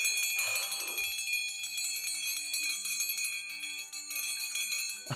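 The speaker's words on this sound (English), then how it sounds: "I shook the bell." A small sleigh bell from Santa's sleigh rings with bright, sustained chiming tones that shimmer steadily for several seconds, fairly close and clear.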